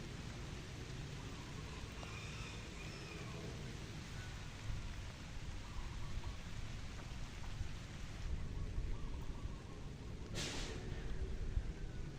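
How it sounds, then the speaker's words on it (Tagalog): Steady rain pours down in a dense, continuous hiss, with a brief brighter burst of noise near the end and no voices. "umuulan na naman"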